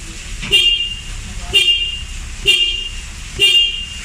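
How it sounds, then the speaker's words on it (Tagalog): Four short car horn toots at roughly one-second intervals, loud and close, over a faint engine hum, sounded while testing a 12V relay. "Subukan nating ibusina"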